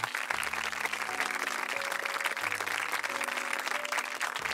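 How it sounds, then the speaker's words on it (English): An audience applauds at a National Honor Society induction ceremony at El Camino Academy, steady dense clapping that holds evenly through the whole stretch, with a faint tonal hum underneath and no voices. "Please join me in thanking them with a round of applause."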